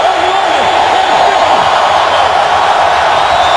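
A stadium crowd at an NFL football game between the Bills and Saints, a loud, steady wash of cheering and roaring that holds at full volume without pause.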